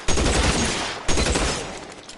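Two heavy bursts of gunfire in L.A. Noire, loud and close, each one cracking sharply and then trailing off into a dense rumble.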